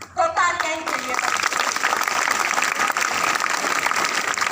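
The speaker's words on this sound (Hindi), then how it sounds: "तो तालियां ही चाहिए।" Schoolchildren seated in a school courtyard break into sustained applause that starts after a brief voice and continues as dense, steady clapping.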